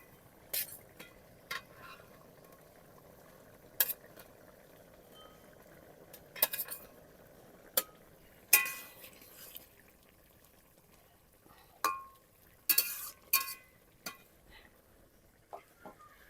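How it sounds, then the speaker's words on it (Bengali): Fried egg fritters drop into a pot of boiling water, giving a series of sharp clinks and splashy plops scattered over a quiet simmering background, some close and distinct, others softer. "জলটা ভালোভাবে ফুটে উঠেছে এখন আমি এই ভেজে রাখা বড়াগুলোকে দিয়ে দিচ্ছি"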